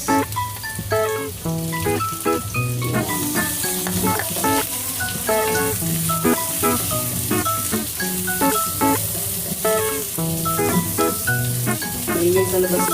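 Onions fry in a pan for beef with mushroom, giving a continuous crackling sizzle that runs beneath louder background music for the whole stretch.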